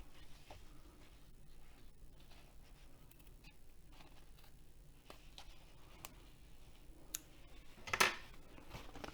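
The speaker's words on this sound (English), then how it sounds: "I'm using my embroidery scissors, so they're curved." Curved embroidery scissors cut through fabric with faint, scattered snips, followed by one sharper, louder snip near the end in a quiet room.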